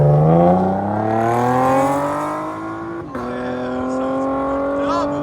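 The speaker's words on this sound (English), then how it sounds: "Flow FX, X pipe, 17 Camaro V6. Sounds phenomenal." A 2017 Chevy Camaro RS with a 3.6L V6, X-pipe and Flowmaster axle-back exhaust drones loudly and steadily as the revs climb smoothly, dip briefly, then hold at a sustained rumble.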